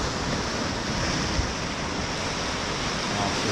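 Ocean surf at Playa Gemelas beach south of Puerto Vallarta, Mexico, a steady broad wash of breaking waves mixed with wind rumble on the microphone, continuous and fairly near.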